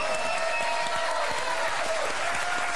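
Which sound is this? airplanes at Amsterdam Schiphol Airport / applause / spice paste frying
applause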